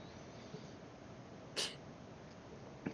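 A single short sneeze bursts out over a quiet room hiss, with a faint breathy sound just after.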